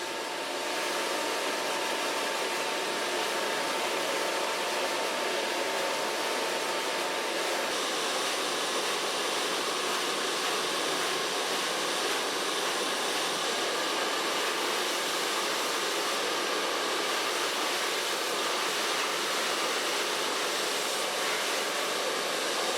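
A hair dryer blows a continuous, loud, steady roar while hair is dried with a round brush, unbroken from start to finish with no talking.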